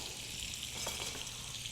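Soft, continuous sizzle as a couple of tablespoons of butter melt into hot extra virgin olive oil in a pan, a faint, even hiss with no speech.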